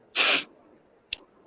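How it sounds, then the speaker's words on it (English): A sharp, breathy sniffle, one strong burst followed by a short fainter second sniff, close and alone against quiet background. "That is a sniffle."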